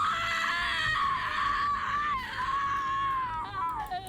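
A survivor character in the Dead by Daylight video game lets out a sustained, high-pitched scream that wavers and breaks near the end, loud and close with no other sounds.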